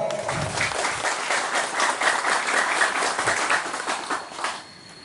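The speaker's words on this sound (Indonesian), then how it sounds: "kita kasih tepuk tangan dulu untuk Bapak Herianto." Audience applause at a village gathering marking a farewell for the village head, a dense, sustained patter of many hands clapping for several seconds before tapering off near the end, with no one speaking over it.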